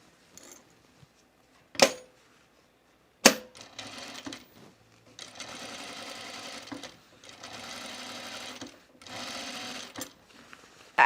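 Sewing machine understitching a Mercer top runs in several steady stitching bursts of a few seconds each, close and moderately loud, separated by pauses and sharp clicks.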